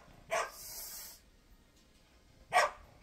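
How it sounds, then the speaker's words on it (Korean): A dog barks twice, short sharp barks about two seconds apart and fairly close, with a brief hissing noise after the first; no one talks. "손님인데 왜 짖어?"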